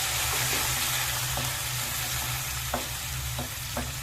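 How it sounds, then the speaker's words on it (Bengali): Onions sizzle in hot oil in a wok, a steady, close frying hiss with a low constant hum beneath and occasional sharp scrapes and taps of a stirring spatula. "এবার আমি পেঁয়াজটা দিয়ে পেঁয়াজটা একটু লাল লাল করে নেব"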